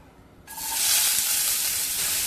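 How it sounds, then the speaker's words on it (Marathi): Sliced onion dropped into a spoonful of hot oil in a pan sets off a sudden loud sizzle that holds steady and hissing close up, with no voices. "आपण 1 चमचा तेल घालून घेऊया, त्याच्यामध्ये हा उभा चिरलेला कांदा,"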